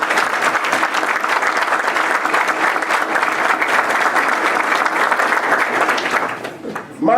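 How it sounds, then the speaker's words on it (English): Sustained applause from an audience honoring staff at a Rockdale County Board of Commissioners meeting, dense steady clapping that fades slightly near the end before swelling again. "Please join me and give this staff a wonderful round of applause."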